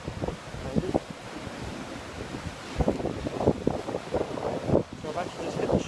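Sea waves break and wash along the rocky North Antrim coast, with several surging rushes of surf at irregular intervals under steady wind noise buffeting the microphone.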